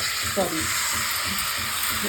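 A continuous sizzle of boiled banana flower frying in a hot pan, a bright steady hiss with a few faint knocks and scrapes underneath.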